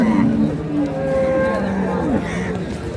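A dairy cow at a busy cattle market lets out a moo lasting a couple of seconds, close and fairly loud, with crowd chatter and voices around it.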